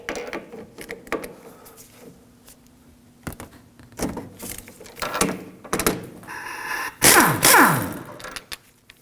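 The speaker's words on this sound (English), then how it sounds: "We're going to remove the jam nut from the inner tie rod." A wrench works the jam nut off the inner tie rod of a 2013-2015 Subaru XV Crosstrek, producing irregular close metallic clicks, scrapes and clanks with a louder grinding burst near the end, and no talking.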